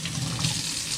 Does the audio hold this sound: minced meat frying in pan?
no